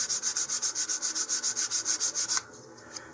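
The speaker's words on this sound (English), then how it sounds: "you can just use a little bit of medium to fine sandpaper here." Medium-to-fine sandpaper rubs back and forth along the edge of a wooden model rocket fin in a steady, even rhythm of about a dozen close strokes, then stops abruptly, followed by a faint tap.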